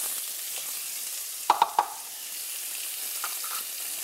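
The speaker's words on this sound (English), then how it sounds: "cooking oil in the same pan that you did your lambs, and 1 cup of chopped onion" Chopped onion fries in cooking oil in a pan, giving a soft continuous sizzle broken by a few sharp clinks of a utensil near the middle.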